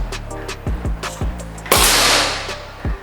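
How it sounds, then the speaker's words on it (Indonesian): An SR Stainless series rifle fires its fourth shot, one sharp loud blast with a hissing decay, preceded by several rhythmic mechanical clicks and followed by another click. "Oke, tembakan yang keempat"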